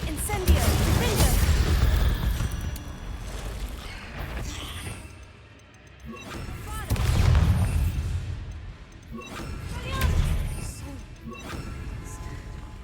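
Loud Confringo and Incendio spell blasts in the wizarding game Hogwarts Legacy, several heavy crashing bursts spaced a few seconds apart, each swelling and fading amid combat noise, with speech mixed in.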